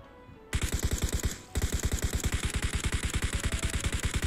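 Rapid automatic gunfire from PUBG Mobile, a dense run of evenly spaced shots with a short pause about a second in, then continuous fire to the end, loud and close.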